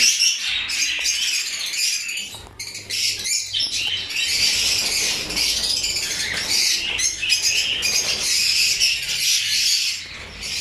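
Caged breeding birds in a cage room give a continuous dense chorus of squawks and chirps, loud and close, with occasional wing flutters and no talking.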